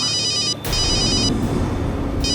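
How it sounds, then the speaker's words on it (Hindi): A telephone rings with a bright, trilling electronic tone in repeated bursts, loud and close, over a low rumbling background. "फोन आ रहा है।"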